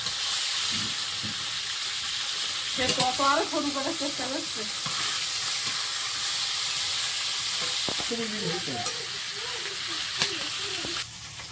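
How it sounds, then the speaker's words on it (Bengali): Fish sizzling steadily in a hot pan in a home kitchen, with a continuous crackling hiss throughout while voices talk over it in two stretches. "মাছটা ভাজা হয়ে গেছে"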